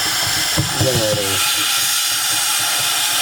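A Shark S3501 steam mop, freshly repaired with its heater core cleaned, pushes out a steady close hiss of steam. A few clunks and a brief pumping whine come near the start.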